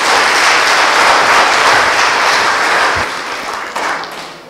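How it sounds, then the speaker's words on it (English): Sustained applause from a debate audience at a crossfire debate in Uganda, loud and dense throughout, tapering slightly toward the end. "Let us clap for them again"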